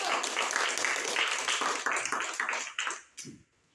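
A short burst of scattered applause from a group, fading out after a few seconds, with a faint voice at the end.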